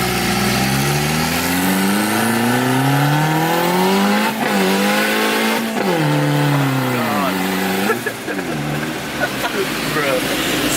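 A turbocharged Honda Civic revs hard and loud while its tires spin, the engine pitch climbing and dropping through several pulls, with voices talking over it.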